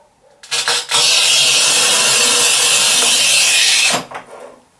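A Rubi HIT-1200 Plus manual tile cutter scoring a 1200-long tile, a loud, steady grinding scrape lasting about three seconds, with a few brief clicks before and after.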